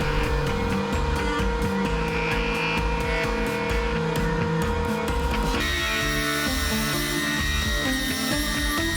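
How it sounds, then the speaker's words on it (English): Wood strips fed through a thicknesser planer make a loud, continuous mechanical roar with rapid chattering pulses, and the tone shifts partway through as the cut changes, with no talk. "I throw them through the thicknesser."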